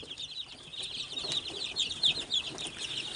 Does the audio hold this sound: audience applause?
no